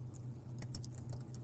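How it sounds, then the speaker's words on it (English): Quiet, close typing on a computer keyboard: a run of light irregular key taps over a low steady hum, with no voices. "I'm going to type in"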